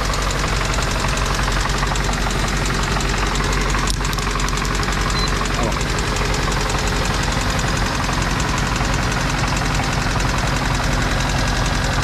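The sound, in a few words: car engine knocking while idling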